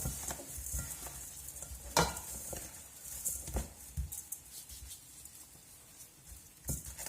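Salted pork lard and crushed garlic stirred by hand in a bowl make close, irregular scraping and squelching strokes, with a few sharper knocks against the bowl.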